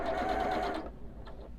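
A sewing machine stitches across a nested seam on a Carpenter Star quilt top, a brief steady whirring run that slows and stops, close up with no talking.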